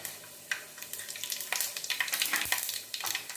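Mustard seeds and cumin sputter in hot oil for a Nellore-style fish curry. Quick pops and crackles burst over a bright sizzle in close, uneven flurries, with no speech.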